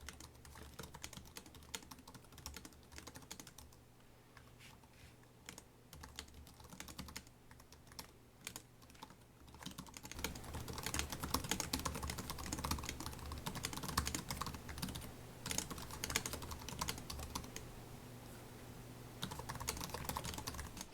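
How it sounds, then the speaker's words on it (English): Quick typing on the keyboard of a 2024 ASUS Zephyrus G16 laptop, a dense run of close, soft key clicks that starts sparse and becomes a steady busy patter, with no talking. "I generally find ASUS keyboards to be pretty enjoyable to type on, so let's just do a quick type here."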